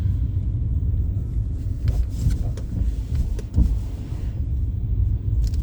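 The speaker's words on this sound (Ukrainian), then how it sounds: "О, дивіться, то листя прибира машина чи що воно робиться, не знаю." A street cleaning machine collecting fallen leaves from a city road in Dnipro, heard as a steady low motorized rumble with occasional scraping and clattering bursts, fairly loud and continuous, with no speech.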